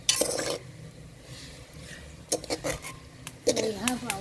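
Onion and spices frying in a pot, a soft background sizzle punctuated by clinks and scrapes of a metal spoon against the pot, with brief talk near the end.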